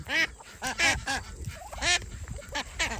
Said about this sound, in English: Please excuse the loud ducks.